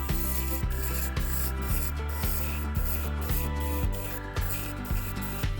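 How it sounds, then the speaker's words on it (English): Tan sand-colored spray paint hisses steadily from an aerosol can onto a 3D printed flathead catfish model, a continuous close spray broken by short pauses in a regular rhythm, with no talking. "all I'm doing is spraying on this tan sand color"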